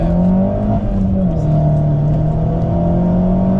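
A highly modified Vauxhall Corsa VXR engine revving loudly nearby, holding a steady raspy drone with slight pitch dips.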